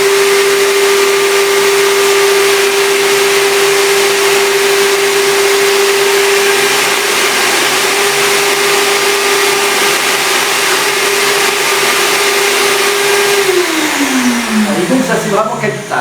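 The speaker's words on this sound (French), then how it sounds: "comment on fait pour bien passer l'aspirateur?" A vacuum cleaner runs loud and steady at close range, its motor drone holding one pitch before dropping sharply and winding down at the end.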